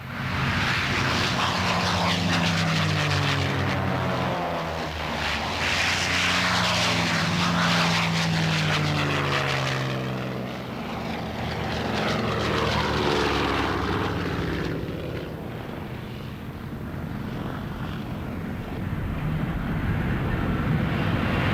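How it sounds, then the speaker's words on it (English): Historical World War II propeller aircraft flying at a Confederate Air Force air show: loud, droning engine roar that swells and fades as the planes pass, continuous for over twenty seconds. "nowhere except at a Confederate Air Force air show can you see such an array of historical aircraft"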